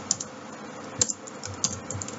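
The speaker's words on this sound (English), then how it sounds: "excuse my typing" Fingers typing on a computer keyboard while writing PHP code, a few scattered sharp key clicks with short pauses between them, close up over a quiet room hum.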